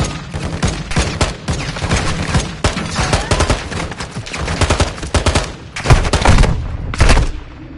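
Dense video-game gunfire, loud and close, with rapid automatic bursts and overlapping shots rattling almost nonstop, broken by a few short pauses near the end.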